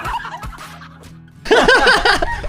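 A chicken clucks and calls nearby in a loud burst of rapid, repeated fowl sounds, preceded by a few softer clucks and low background noise.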